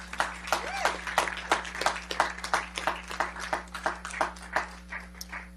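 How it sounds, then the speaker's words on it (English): A council session audience gives a round of applause, scattered individual claps in an uneven rhythm over a steady electrical hum, moderately loud and nearby. "I think that deserves a round of applause"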